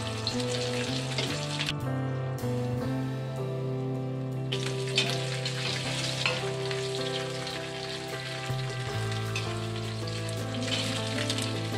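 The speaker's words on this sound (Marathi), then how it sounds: "आता हे आपण भाजून घेऊया। खोबरं भाजून घेऊया।" Grated coconut dry-roasts in a pan with Malvani garam masala, onion-coconut masala and turmeric for a spicy crab curry, giving a steady, soft sizzling crackle throughout, with background music playing over it.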